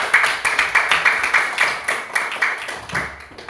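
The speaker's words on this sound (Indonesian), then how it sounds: "Kasih tepuk tangan yang meriah untuk kelompok 1" Classroom applause for a student group: a handful of pupils clapping in a quick, fairly regular rhythm, close and clear, thinning out near the end.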